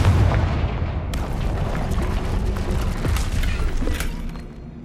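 Spell-blast explosions from the Confringo fire curse in Hogwarts Legacy, a loud boom at the start followed by dense crackling, rumbling bursts that continue throughout with no talking.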